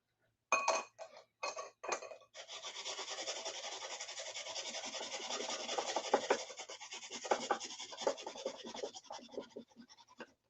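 Onion rubbed on a fine kitchen grater during a live cooking demo makes a few clinks as it is set up, then a steady, close, faint rasping scrape for several seconds that breaks into uneven strokes near the end.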